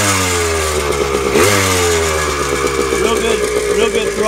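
A 1992 Yamaha RT 180 motorcycle engine revs up close, its buzzing two-stroke note climbing sharply about midway and then settling into a loud, rough idle.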